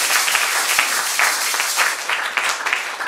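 A church congregation claps and applauds the Lord during a service, a loud, steady wash of many hands close by, with faint voices mixed in.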